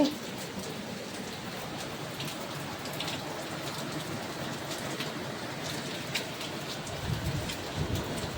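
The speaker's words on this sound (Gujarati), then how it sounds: "બરાબરનો લગ લગાવીને વરસાદ ચાલુ થઈ ગયો છે" Heavy rain pouring down outdoors, a dense, steady wash of drops hitting surfaces with a low rumble beneath, continuous and fairly loud throughout.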